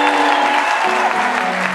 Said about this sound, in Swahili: Hebu nisikie makofi ya shangwe kwa Yesu Masia